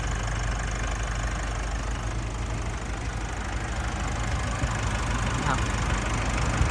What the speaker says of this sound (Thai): เครื่องดังไพเราะครับ